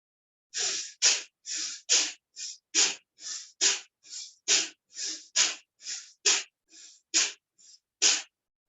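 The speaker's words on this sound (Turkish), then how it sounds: "Ne zamanki nefes aldın burundan ince boşalt" Forceful nasal exhalations of bhastrika pranayama breathing, a steady series of about fifteen sharp, hissing bursts at a quick even rhythm, close and loud with no talking.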